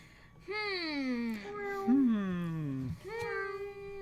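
A cat meows loudly and repeatedly close by during a board game session, giving several drawn-out, pitch-bending cries one after another.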